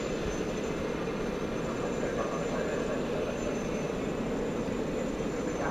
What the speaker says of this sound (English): So I think we're going to see this aeroplane demonstrated to its maximum performance